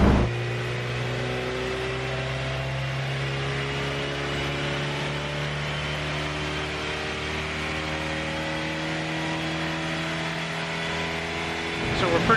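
A Honda Integra Type R engine idles steadily while warming up, a smooth continuous hum holding close and even throughout, with a slight swell at the end.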